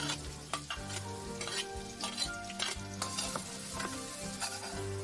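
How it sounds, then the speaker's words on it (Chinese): Scallion, ginger and garlic sizzle steadily in hot oil in a wok, a close, continuous frying hiss with scattered scrapes and clinks of stirring, and no one talking. "锅烧热，加入油， 下入葱姜蒜"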